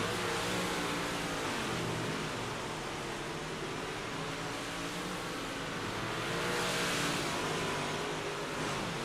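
A dirt race car in a virtual racing game at Limeland Motorsports Park, car number 00, heading out onto the track, heard as a steady, loud, broadband engine roar with no talking.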